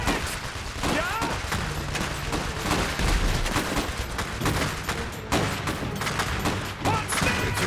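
Dense, continuous enemy gunfire from the Iron Harvest strategy game, rapid shots and bursts crackling throughout with heavier booms mixed in, a steady loud fusillade with no talk over it.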